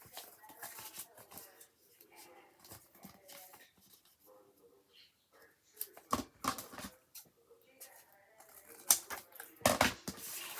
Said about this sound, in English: I'm going to cut a tag shape.